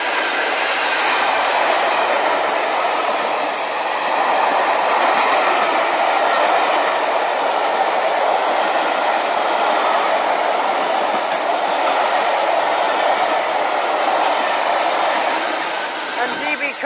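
A charter train hauled by a pair of class 66 locomotives passes at Immingham Port, giving a steady, loud rumble and wheel noise that holds level for the whole stretch as a long line of coaches rolls by.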